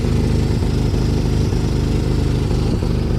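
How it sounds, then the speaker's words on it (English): A Ford Fiesta ST engine runs loud and close with a misfire, its steady rumble broken by a stumble roughly every second, uneven and spluttering with no talk over it. "Yeah, it's a bit of a misfire there"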